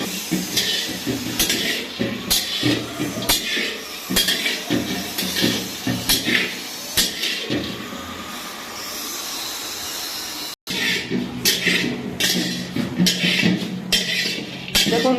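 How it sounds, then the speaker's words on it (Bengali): Cashews frying in ghee in a pan give a steady hiss and sizzle with clinks of a utensil against metal, loud and close, pausing briefly near the end. "দেখুন কাজু ভাজছে"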